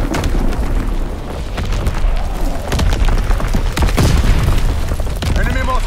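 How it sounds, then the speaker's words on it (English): Mortar and artillery blasts from the Call of Duty WWII video game pound in a dense battlefield wash, with heavy booms and bursts landing close and loud, while voices speak over the chaos. "Enemy mortar fire incoming."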